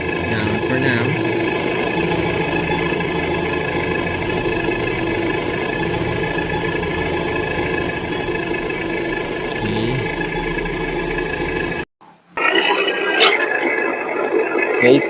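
An RC engine sound module fitted to a YK 4107 RC truck plays a diesel engine sound: a loud, steady, rumbling idle. It cuts out abruptly near the end, then resumes briefly with a changed tone.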